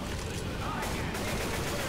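Rapid, continuous video-game gunfire keeps up a dense, loud barrage for the whole stretch, with hints of players' voices mixed underneath.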